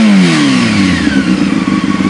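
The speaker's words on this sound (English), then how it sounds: "I'm going to go ahead and rev it up real quick." A motorcycle engine revs up with a rising whine, then settles into a rough, rumbling idle close by.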